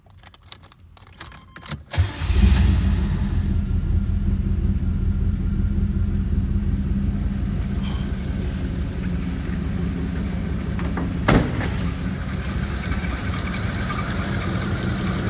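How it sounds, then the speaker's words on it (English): A 1987 Chevrolet Monte Carlo SS with overdrive transmission starts after a jingle of keys, catching with a quick crank and then settling into a steady, deep idle rumble that runs loud and close to the end. "Let's start her up."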